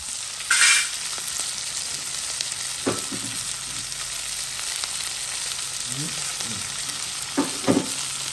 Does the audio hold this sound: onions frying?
yes